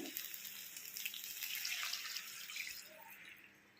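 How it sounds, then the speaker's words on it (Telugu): Water pours steadily into a pot of frying taro root, a soft rushing splash that tapers off toward the end, fairly quiet with no voices. "వాటర్ పోస్తున్నాం అందులో"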